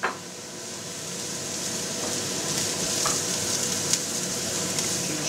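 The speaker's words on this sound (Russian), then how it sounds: "теперь добавляем туда же морковочку. Обжариваем еще около 4 минут." Onion and carrot fry in a pan for Carpathian mushroom yushka soup, a loud steady close sizzle that swells after an initial clatter as the carrot goes in, no voices.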